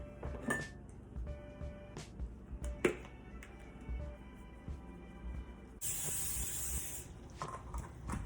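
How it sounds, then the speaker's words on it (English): A sustained aerosol hiss of cooking spray starts abruptly after some kitchen clatter and light knocks, lasting a couple of seconds close by. "I sprayed my pan with some cooking spray."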